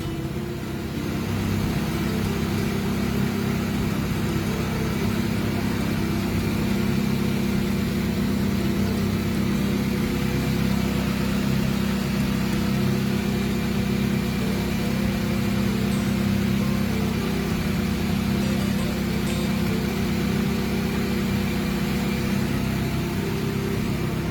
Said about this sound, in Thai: จอดสองวันไม่ได้สตาร์ท เครื ่องนิ่ง ๆ เลยครับ